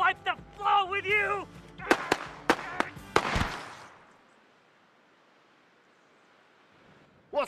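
Sharp gunshot sound effects in a steampunk film noir comedy scene: a rapid burst of several loud cracks after spoken lines, followed by a fading echoing tail and near silence.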